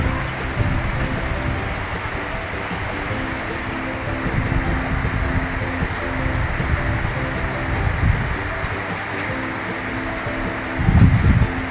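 Typhoon Uwan wind and rain in Valenzuela City roar as a steady broadband rush, with gusts swelling and fading and a stronger surge near the end, no voices.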